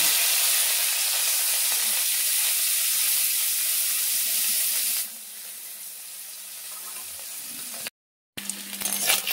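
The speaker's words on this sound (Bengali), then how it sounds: "কড়াইতে তেল গরম করতে দিয়েছি, গরম হয়ে গেছে। মাছগুলো দিয়ে দেবো।" Small chuno fish frying in hot oil in a wok, a loud, dense, steady sizzle that drops to a softer crackle partway through, briefly cuts out, then resumes with some clatter.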